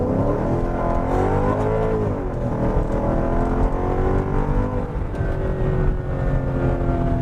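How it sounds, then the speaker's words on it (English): A Mercedes E55 AMG with an automatic transmission accelerates at full throttle, its engine roaring loud and close from inside the car, pitch climbing steadily with brief dips as the gearbox shifts up. "Now, to demonstrate that, I will now floor it."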